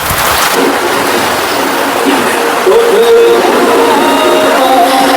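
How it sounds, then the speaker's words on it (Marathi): A dense wash of heavy monsoon rain roars steadily, with faint distant voices and a few tonal sounds in the background. "गाईज मुसळधार पाऊस आलाय बघा."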